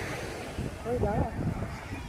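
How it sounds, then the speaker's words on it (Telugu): Sea waves of the Arabian Sea wash steadily in a broad, rushing roar with wind noise, and a faint voice rises briefly in the middle. "ఇలా పెద్ద సముద్రం"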